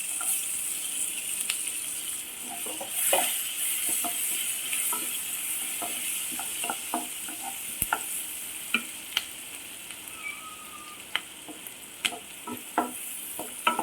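Chopped onion, capsicum and garlic sauté in a hot pan for a homemade chicken pasta, a soft steady sizzle broken by frequent clicks and scrapes of a spoon stirring against the pan.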